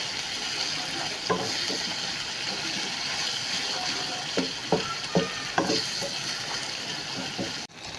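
Small fish frying in a pan, a constant hissing sizzle with occasional sharper pops and spatter bursts, close by and steady throughout, no one speaking.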